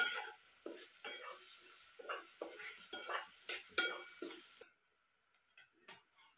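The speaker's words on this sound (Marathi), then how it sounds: "कांदा छान तळून घ्यायचा." Chopped onion frying in hot oil in a pan over a wood-fired stove while pithla is made, with a steady sizzle and repeated stirring scrapes for about four seconds, after which the sound drops to a quiet crackle with a couple of soft taps.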